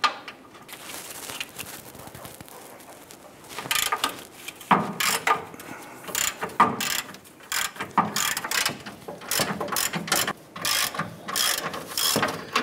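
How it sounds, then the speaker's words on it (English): A ratchet wrench loosens 18 mm front bumper nuts on a 2011–2018 Dodge Ram 1500. Close, rapid clicking comes in repeated bursts with short pauses between them, and nobody talks. "Let's go ahead and loosen these nuts."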